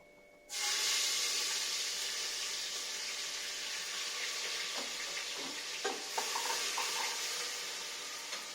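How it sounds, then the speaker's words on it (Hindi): Onions hit hot tempering oil with a loud sudden sizzle that settles into a steady frying hiss, with occasional clinks and stirring noises. "अब ये जब मैं तड़के में डालूंगी तो फिर ये अलग सा साउंड करेंगे।"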